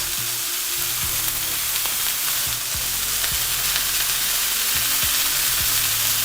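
Onions sizzle on a hot cooking surface beside loose beef meatballs for smash burgers, a constant close frying hiss with faint low rumbling underneath and no voices.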